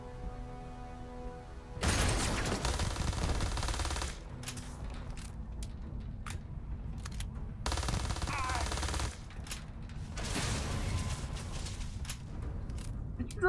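Gunfire in the sci-fi game Starfield, dense bursts of rapid automatic shots in several loud volleys separated by short quieter gaps with scattered single shots.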